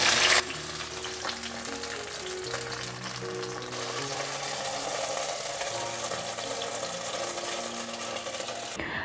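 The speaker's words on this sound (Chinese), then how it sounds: "继续让它煎，两面都变成焦黄色了" Food pan-frying until golden brown on both sides gives off a steady, even sizzle and crackle that runs the whole time beneath background music.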